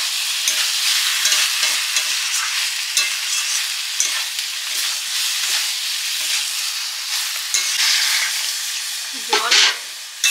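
Ground spice paste of cumin, coriander, garam masala and dried chilli frying in a pan, a bright continuous hiss with scattered spoon scrapes and a louder bubbling flare toward the end.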